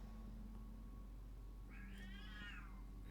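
A cat meows in a drawn-out, wavering call with no talking over it. The call is fairly faint against a steady low hum.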